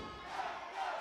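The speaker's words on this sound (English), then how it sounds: "Broncos fans cheering up their defense" Broncos fans cheering for their defense in the stands at a junior American football game, Calanda Broncos against Basel Gladiators, heard as a faint, distant crowd roar that swells twice.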